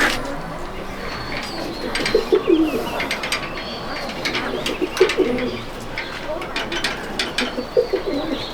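Dowbaz pigeons in a pigeon loft in Malda district coo in repeated low throaty bursts, close and fairly loud, over a background of clicking and rustling from the birds.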